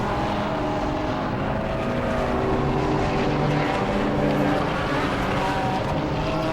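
Race cars lapping a circuit during a BARC endurance race, engines roaring continuously at high revs, loud and sustained with a steady blur of motor noise.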